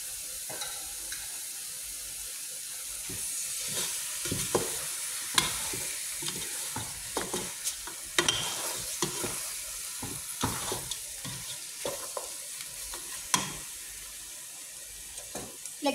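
Meat simmering with coconut milk is stirred in a pan, a spoon scraping and clacking in uneven strokes over a soft, continuous bubbling sizzle, close up and without speech.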